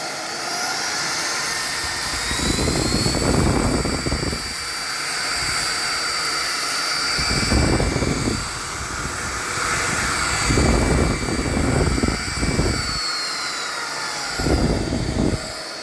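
An AONUS A9MAX cordless vacuum cleaner runs with a loud, steady high-pitched whine while sucking up a small pile of rice, with repeated rattling surges as grains are pulled in during several passes.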